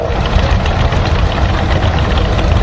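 A John Deere Series 2 420 tractor engine idles at a show, a loud, close, steady low rumble with a fast even knock and no talk over it.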